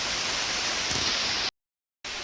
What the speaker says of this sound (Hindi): ये मौसम की बारिश, ये बारिश का पानी।